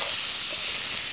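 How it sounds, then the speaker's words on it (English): Parsley, red onion and garlic sizzle in olive oil, a loud, steady, broadband hiss filling the short moment close up without any talk over it. "Listen to that sizzle."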